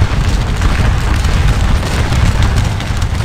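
Massed musket volleys in a Napoleonic Waterloo battle game, a continuous heavy rumble of gunfire and booming with no clear gaps, loud and close throughout.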